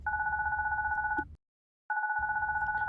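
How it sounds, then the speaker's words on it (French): A telephone rings with a two-tone electronic trill, one steady burst, a brief pause, then another, fairly close and clear, with no one talking. "le téléphone du grand frère fit retentir sa sonnerie désagréable"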